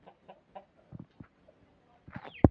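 A hen about to lay an egg gives a few soft, scattered clucks close by, ending in a sudden louder squawk.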